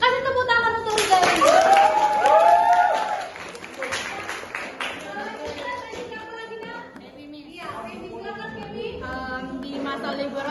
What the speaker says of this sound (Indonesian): Kasih tepuk tangan untuk Rizal.